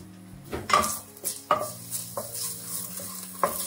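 Bacon sizzles in a pot while a utensil stirs and clinks against the metal several times, with sharp scraping hits over a soft frying hiss.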